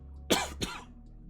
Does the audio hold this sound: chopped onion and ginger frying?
no